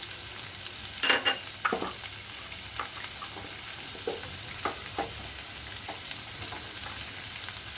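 Chopped ginger and garlic sizzle steadily in hot oil for an Afghan egg curry, a constant close frying hiss broken by scattered crackles and a few stirring scrapes.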